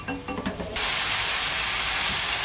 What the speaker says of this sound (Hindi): अच्छी तरह से 5 मिनट तक हम इसको अच्छे से भूनेंगे।